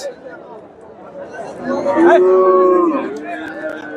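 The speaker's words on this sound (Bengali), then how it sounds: "এখানে একটা দেখেন ক্রস ব্রিডের ষাঁড়, সুন্দর একটা ষাঁড়।" Cattle, including crossbred Friesian bulls, low and moo amid the chatter of a busy crowd at a livestock market, with one long, loud moo rising above the babble midway through.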